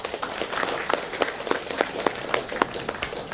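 A room full of people applauds the minister at a parliamentary commission meeting, steady dense clapping with sharper individual claps standing out, no talking over it.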